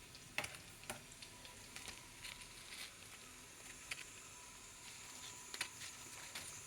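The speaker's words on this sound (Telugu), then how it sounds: "ఇలా వేయించండి." Fish fingers fry in oil with a faint, steady sizzle and occasional sharp pops and spatula clicks, quiet and with no talking.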